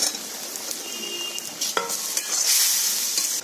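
Fried potatoes tipped into a pan with washed mung dal and a little water, stirred amid steady sizzling, with a sharp clink of utensil near the middle and a brighter hiss toward the end.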